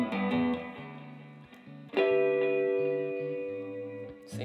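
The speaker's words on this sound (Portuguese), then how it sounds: "Agora pode pôr o delay com o reverb também." Electric guitar on a Tagima Sixmart rings out with delay and reverb, sustained notes and chords trailing into echoing repeats, a new strum swelling loudly midway and ringing out alone.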